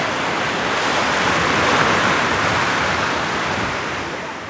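Ocean surf on the coast of Gambia gives a continuous, loud, broadband roar of breaking waves, steady throughout and easing slightly toward the end, with no voices.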